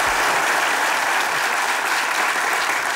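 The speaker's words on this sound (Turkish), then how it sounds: "Alkışlar gelsin." A studio audience at a Turkish comedy sketch show claps steadily and loudly, a dense, even wash of many hands with no voices on top and no break for the whole stretch.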